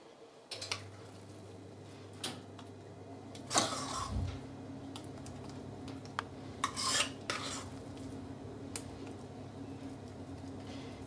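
Cheesecake filling is spooned onto a cooled biscuit base for a lime and cardamom cheesecake, giving soft scrapes and a few light clinks of a spoon against a bowl, with a low steady hum behind them.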